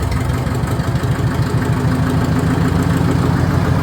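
A Farmall 650 tractor's diesel engine runs steadily at a loud, close, rough idle with a constant low throbbing rumble and no talking.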